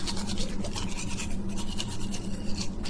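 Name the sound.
brushing teeth with a toothbrush sound effect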